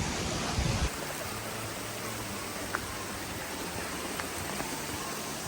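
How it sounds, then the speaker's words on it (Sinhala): Stream of water rushing at Garadi Ella waterfall, a constant broadband wash of flowing water with a brief thump near the start. "වතුර පාරක් යනවා."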